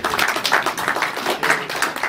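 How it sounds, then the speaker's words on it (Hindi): Enthusiastic rhythmic clapping from an audience welcoming a guest at an album launch event, close and energetic, with steady repeated hand claps and no speech. "मैं आप सभी से निवेदन करता हूं कि एक बार जोरदार तालियों से"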